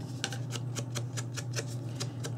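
Scissors cutting a piece of paper for a camera album box craft, with a regular series of about ten crisp snips over a steady low hum.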